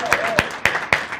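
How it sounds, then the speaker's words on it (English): Audience at a business graduation ceremony clapping, with four distinct, sharp claps in a slow, even rhythm, fairly close and loud, and a faint voice underneath. "I think now we can give them all a big round of applause."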